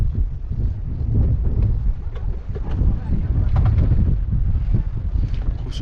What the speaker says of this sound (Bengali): সুন্দর হাওয়া চলছে।